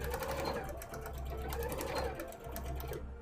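Sewing machine stitching free-motion embroidery on cosplay fabric, a continuous fast rapid needle chatter running throughout at close range, with a voice talking over it.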